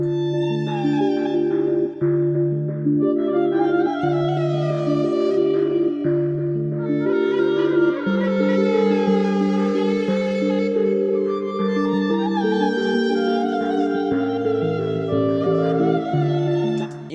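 A plucked synth plays a simple stepping melody over sustained harmonic tones, steady and loud throughout with no voices.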